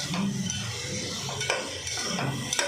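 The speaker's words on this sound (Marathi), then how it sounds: "कोणतंही लाल तिखट घ्या, चांगलं मिक्स करून घ्या." Red chili powder being stirred into a misal mixture in a pan, a steady scraping stir with spoon knocks against the vessel over a soft sizzle, close and alone with no talk.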